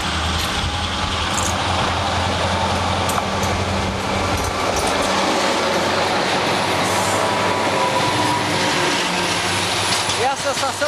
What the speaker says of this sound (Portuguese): E vem o trilho. E vem o trem.